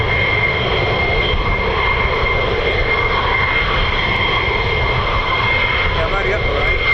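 An Airbus A400M military transport aircraft at RAF Lakenheath gives a steady loud engine drone with a sustained propeller-like hum, while people chat nearby over it.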